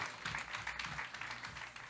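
An audience at an advertising awards evening in France applauds a singer, a steady bed of mid-level clapping with no one speaking.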